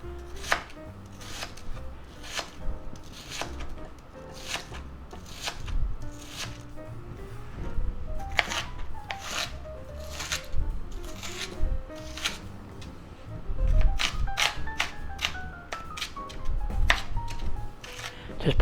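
Knife chopping onion on a cutting board for a cabbage pie, a run of quick, sharp, close taps in uneven bursts, with occasional soft voice and background tones.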